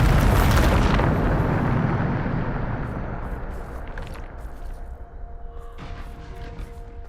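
A Bombarda spell explodes in Hogwarts Legacy, a loud booming blast up front that rolls away into a long decaying rumble, with faint crackles and a thin tonal hum left behind.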